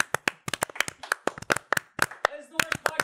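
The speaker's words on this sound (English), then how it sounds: "Does that mean we could clap the whole theme song?" A few people clapping in uneven, sharp bursts during a podcast recording while trying to clap along to a show's theme song, with voices talking between the claps.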